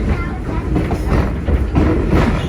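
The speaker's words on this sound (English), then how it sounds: "And the locomotive pulling our train today is our 1932 Edison steam locomotive." A 1932 Edison steam locomotive hauls a passenger train, a loud, close, steady rumble with rhythmic chugging and rattling throughout.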